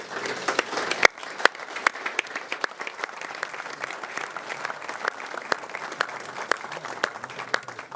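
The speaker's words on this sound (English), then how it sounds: "If I could maybe ask all of you to give an applause to our volunteers, that would be fantastic." People at the England pre-match press conference for the 2018 World Cup applaud the media volunteers, a moderate roomful of scattered, sharp claps continuing steadily.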